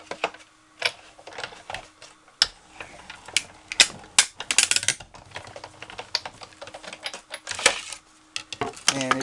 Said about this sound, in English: These die cutting machines often make that sound.